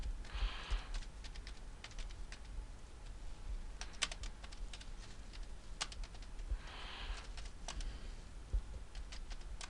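Typing on a computer keyboard, a quick irregular patter of key clicks with louder isolated presses, plus two brief denser bursts of clatter, close and fairly quiet, with no talk.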